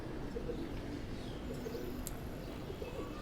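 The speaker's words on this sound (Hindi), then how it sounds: "अच्छा ये मैदुम कबूतरी है।" Low, soft cooing from a pigeon at a loft setup, faint against a steady background hiss with a few distant chirps.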